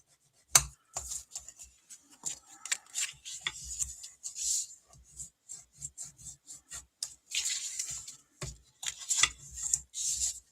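Folded cardstock for a Christmas pop-up card is burnished by hand, giving close, dry rubbing and scraping strokes in irregular bursts with a few sharp taps, alone in a quiet room.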